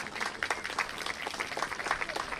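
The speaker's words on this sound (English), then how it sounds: "give them a round of applause" An audience applauds school board members at a school ground-breaking ceremony, a brief, faint patter of steady clapping heard from a distance.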